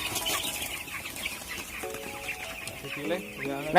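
A crowd of 15-day-old broiler chickens clucks and squawks in a poultry house during weighing, a dense, steady farm din with some wing noise and louder calls near the end.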